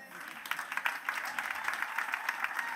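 A church congregation applauds in a quick, lively burst of close clapping, bright and fairly even, with little talk over it.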